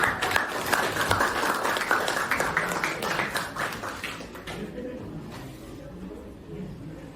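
A classroom audience applauds after a group presentation, dense steady hand clapping that fades and thins toward the end as a voice begins speaking over it.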